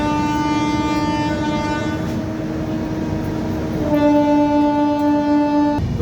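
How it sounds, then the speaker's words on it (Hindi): Andhra Pradesh Express 20806 pulling out of Amla Junction, heard as a loud, sustained horn blast that pauses briefly and sounds again over the low rumble of the train. "तो अपनी ट्रेन आमला जंक्शन से निकल पड़ी है."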